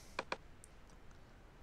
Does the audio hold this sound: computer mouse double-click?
yes